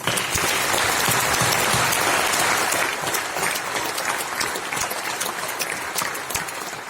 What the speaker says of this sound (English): give a very hearty round of applause for the entire Aadhaar team